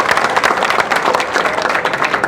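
Loud, dense applause from a crowd at a political rally in Narnund, steady clapping filling the whole stretch with no break.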